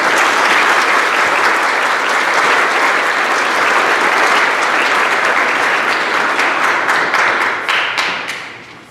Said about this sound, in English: Let's give these fine students a round of applause